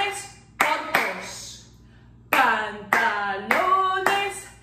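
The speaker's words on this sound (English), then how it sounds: "Can you clap with me and say," During a children's Spanish lesson, hands clap sharply and close up in a steady rhythm of about six claps. A voice speaks right after several of the claps, with quiet gaps in between.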